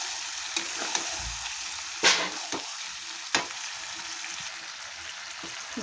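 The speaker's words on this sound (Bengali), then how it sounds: "দিয়ে খুব ভালো করে এখন আমি নেড়ে চেড়ে নেব মাংস দিয়ে।" Goat meat is stirred and fried in spices in a pot, producing a steady sizzle with a few sharp scraping strokes and clanks of the spatula.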